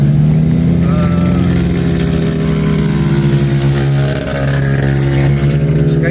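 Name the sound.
Skylab motorcycle taxi engine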